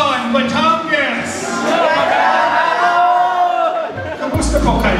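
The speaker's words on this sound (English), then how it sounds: "A big round of applause" A crowd at a live evening show at Grove Park in Batangas, Philippines, cheers and claps beneath a loud voice talking into a microphone, the crowd noise steady throughout with a thump near the end.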